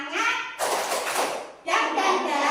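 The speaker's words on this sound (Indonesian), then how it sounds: "Oke, tepuk semangat." A group of schoolchildren in a classroom perform a patterned spirit clap, with sharp bursts of hand claps and taps rising over a teacher's voice that talks throughout.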